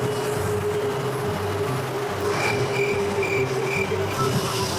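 An LRT light rail train at a station gives a steady rumbling hum with a faint high whine, continuous and fairly close, with no talking.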